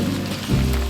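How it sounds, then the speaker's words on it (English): Rain falling in the video game Death Stranding 2, a steady broadband wash of droplets over a low droning background, growing slightly louder partway through, with no voices. "I'm never gonna stop the rain by complaining"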